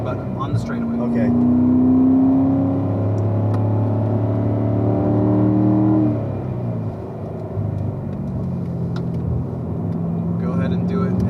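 A car's engine on a race track climbs in pitch under full throttle and then shifts up, rising again in a close, rumbling in-cabin drone while people talk.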